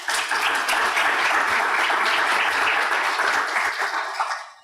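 Sustained applause from a conference audience welcoming a doctor's lecture on innovation in knowledge production and change in Chiapas: dense, steady clapping that fills the room and tapers off at the end.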